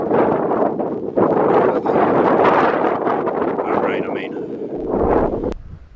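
Strong coastal wind near Pwllheli, Wales, buffets the microphone, a loud, continuous rushing roar that swells and dips throughout.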